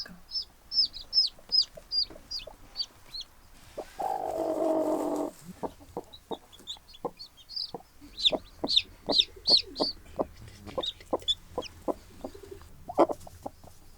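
A hen clucks in low repeated bursts while her newly hatched chicks peep in high, rapid chirps nearby in the nest, with a short rustling noise partway through.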